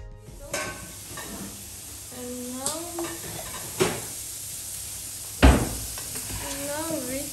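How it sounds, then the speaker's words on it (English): Onion and carrots frying in oil give a steady sizzle beneath a woman's speech, broken by several clinks and clatters of pots and utensils, one sharp knock standing out. "now we are going to fry onion with carrots and tomato paste"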